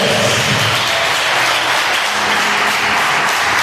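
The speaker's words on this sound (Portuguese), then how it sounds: "dá um aplauso ao nosso Deus" A church congregation applauds during an evening service, a dense, steady roar of clapping that holds at an even level for several seconds with no speech over it.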